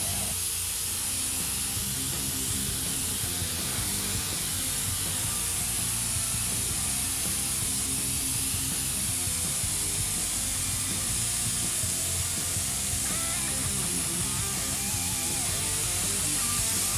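An airbrush-style paint sprayer with an old, worn 0.35 nozzle hisses in a continuous, loud, even spray, with faint mechanical rubbing underneath.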